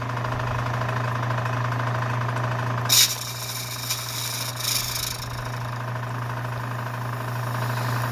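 A wood lathe spins a blank with a constant droning hum while a spindle gouge cuts it, adding a couple of brief scraping bursts partway through.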